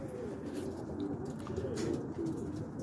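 Pigeons cooing around a porch, several soft low coos repeating in a loose rhythm over faint outdoor background noise.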